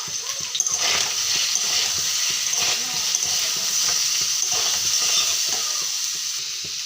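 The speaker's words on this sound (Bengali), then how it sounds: "কোয়াশ আলুটা আগে ভাজা করে নেব" Squash and potato pieces fry in white oil in a wok, giving a steady, close sizzle with soft stirring scrapes throughout and no talking.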